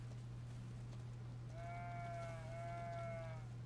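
A single drawn-out sheep bleat from a video game, harmonic and wavering, rises over a steady low electrical hum and constant background hiss.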